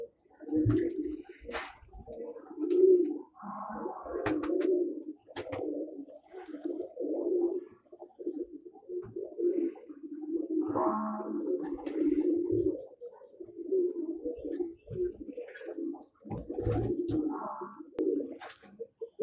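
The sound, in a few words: pigeons cooing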